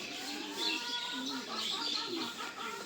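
Soft pigeon cooing and light bird chirps mixed with faint background murmur, fairly quiet and continuous.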